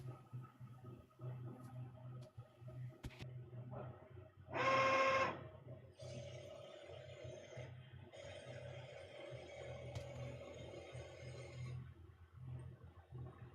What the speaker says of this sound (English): You can also hear the printer on the YouTube live stream.